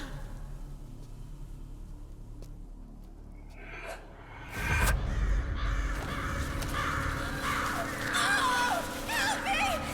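Crows cawing and attacking in the video game Metal Gear Solid 4, harsh repeated calls rising over a loud rumbling burst and a dense game soundscape with a shrieking voice.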